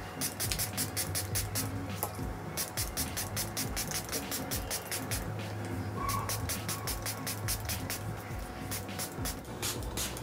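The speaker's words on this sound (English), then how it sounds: "you take your water can, and you just" Rapid series of sharp spritzes from a spray bottle wetting hair, in quick rhythmic bursts, close by, with short pauses between runs over a low background hum.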